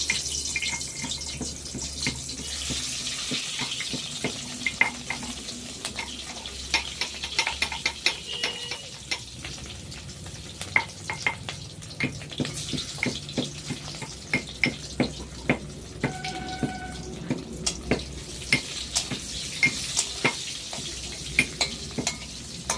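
Peas and potatoes frying in a pan at home, a steady close sizzle with repeated stirring scrapes and clinks of a utensil against the pan throughout, no talking.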